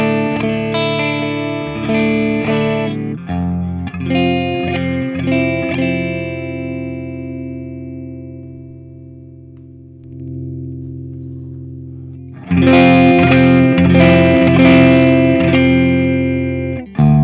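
Electric guitar through the ML Sound Lab Amped CB4 amp plugin on its clean channel with single-coil pickups: picked chords and notes with long sustain ring out, decay into a near-silent lull, then return as louder, brighter strummed chords.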